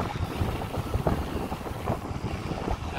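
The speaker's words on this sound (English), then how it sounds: "You're probably going to now hear the wind" Strong headwind buffets the microphone on a canal boat, a continuous low rumbling gust with wind roar and faint water-like wash, steady and loud for the whole stretch.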